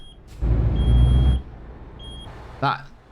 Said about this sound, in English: the beeping really, really does my head in